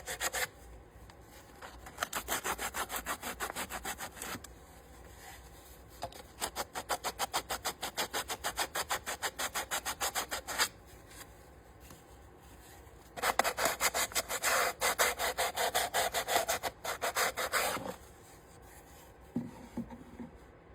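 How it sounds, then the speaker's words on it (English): Sandpaper rubbed over the edges and corners of a small wooden dollhouse piano, steady rapid back-and-forth scratching strokes in several long runs with short breaks, close and fairly quiet. "Now's a good time to sand any edges or corners that may need to be sanded before we move forward."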